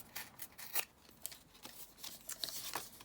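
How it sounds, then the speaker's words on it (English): Paper pages being torn out of a pad for an altered paper clip pad craft, several quick close rips and crinkles over a few seconds, fairly quiet. "So let's just tear my pages out."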